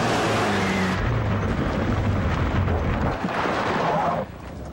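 A car with faulty steering rumbles and roars in a dramatic scene. A loud, turbulent engine and road noise runs throughout and then drops away abruptly near the end, with no voices.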